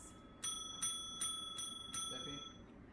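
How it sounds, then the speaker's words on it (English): A small bell rings five times in a steady rhythm, each bright ding ringing out briefly, fairly faint against a quiet room. "Ring my bell."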